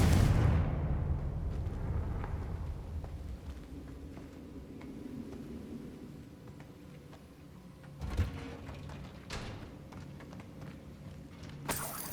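A Confringo blasting spell in Hogwarts Legacy bursts with a loud opening boom that rumbles and decays over several seconds, followed by quieter mechanical creaks and two sharp later thumps.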